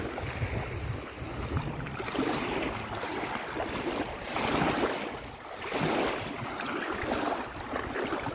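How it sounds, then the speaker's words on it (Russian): Steady rushing of sea waves washing in, swelling and easing every couple of seconds, with a broad windy hiss throughout. "Жалко, что волны, конечно."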